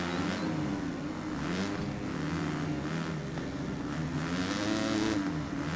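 A motocross bike engine in the MXGP3 video game holds near its rev limiter, a continuous buzzing whine that wavers slightly in pitch as it bounces off the limiter, steady and fairly loud with no talk.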